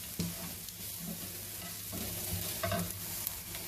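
Vegetables for pohe sauté in a pan, with a soft continuous sizzle and scraping stirring strokes up close, and no talking.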